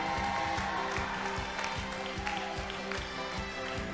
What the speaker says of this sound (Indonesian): kita bagi tepukan untuk PKW Mamai